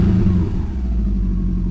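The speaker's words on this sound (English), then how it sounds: "Full cold start here, as you can hear." A Subaru Impreza STI idles on a full cold start, its engine and exhaust giving a steady, deep, low rumble that stays even and fairly loud throughout with no voices.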